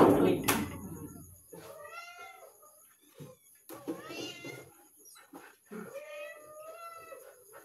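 A cat meows repeatedly in a home, several drawn-out calls spread through the clip, close and clear, mixed with short knocks and a few quiet voices.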